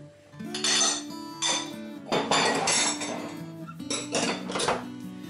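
Dry almond powder, icing sugar and grated coconut whisked together in a mixing bowl for a coconut lime entremet, giving repeated metallic scraping and clinking bursts against the bowl, close and fairly loud, with no talking.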